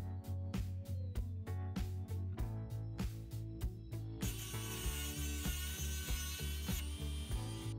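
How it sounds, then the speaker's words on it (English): A Dremel rotary tool cuts off screw heads glued into threads, giving a steady high whine with regular pulsing bursts as the cutting wheel bites into metal, running continuously and alone. "cutting off the screw heads with a Dremel"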